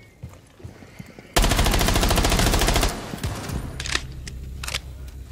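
Gunfire in the video game Rainbow Six Siege: a loud, rapid burst of automatic shots lasting about a second and a half, followed by quieter scattered shots and game noise.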